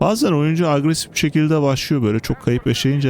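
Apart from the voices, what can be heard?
No everyday noises stand out.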